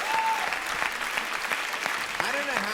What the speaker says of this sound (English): Big applause break here